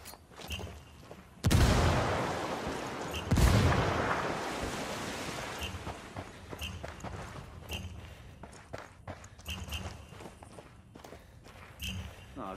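A frag grenade blast and gunfire in the tactical shooter Ghost War: two loud, broad booms roughly two seconds apart, then a scatter of sharper shots and footsteps as the noise tails off.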